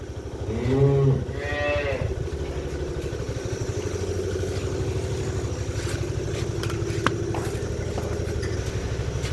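A single loud cow moo rises early on, then a low, steady engine rumble drones on alone.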